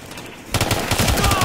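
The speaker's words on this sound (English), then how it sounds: "I'm taking heavy fire!" Rapid automatic gunfire in the Ghost Recon Future Soldier video game during a Guerrilla mode defense of an office map, with a loud sustained burst of shots starting suddenly after a brief quiet moment.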